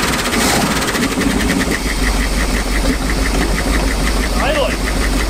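A big-block boat engine, revived after years unused, idles with a steady, rumbling, knocking rhythm, close and loud, while a voice speaks briefly over it.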